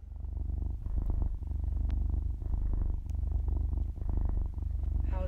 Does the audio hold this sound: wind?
no